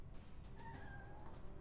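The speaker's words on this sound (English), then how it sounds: "that's a very sweet meow" A pet cat meows softly during a card game session, a single sweet, rising meow drawn out over about a second against a steady low background hum.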